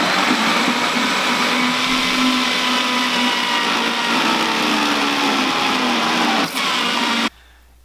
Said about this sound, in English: And then we're going to blend it up